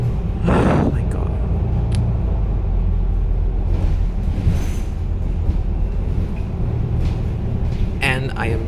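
Inside the upper deck of a double-decker bus on the last run of the night, a steady low rumble of the moving vehicle continues with occasional rattles and clunks and a brief voice sound near the end.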